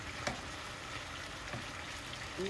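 Beef steak sizzling and frying in a pan, a steady close crackle with a few sharp pops, no talking.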